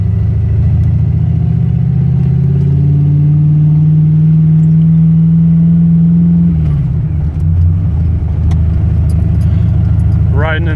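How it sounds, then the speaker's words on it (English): A loud, steady engine drone from an old Rallycross Mustang rolls through a campus, sustained and close throughout, with a shift in pitch partway as it slows or changes gear. "Riding in the old Rallycross Mustang today, so a little noisy"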